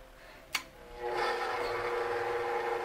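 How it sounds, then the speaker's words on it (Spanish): An electric mixer starts beating six egg whites for a lemon cheesecake, a click followed by a steady whirring hum that settles into a constant, moderately loud drone with no talk. "voy a poner las 6 claras. Y las voy a poner a batir."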